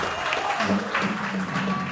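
At a racing event, an audience applauds for a race car driver who battled cancer, steady clapping mixed with crowd murmur and some voices talking underneath.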